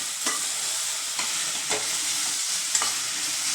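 Okra frying in a pan sizzles with a constant bright hiss while a spoon stirs it in several quick scraping strokes spaced about a second apart, close and clear with no talk.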